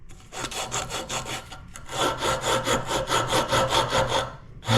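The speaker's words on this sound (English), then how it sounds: "Okay, so we're going to start sanding. I'm just going to try to keep the middle to the chamfer line" A wooden musky jerk bait lure is hand-sanded in fast back-and-forth strokes, close and rhythmic, with a brief pause before sanding resumes.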